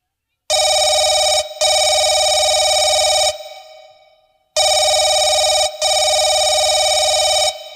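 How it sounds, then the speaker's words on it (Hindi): A telephone rings back while a call is being placed, giving two loud, steady electronic double-ring bursts, each a pair of long buzzing tones separated by a short gap, with a pause between them. "हाँ, अभी फोन लगा रहा हूँ।"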